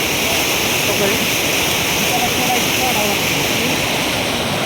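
A loud, constant rush of fast-moving flood water roars without pause beside a full dam at Kolegaon, dense and close like a flooding stream.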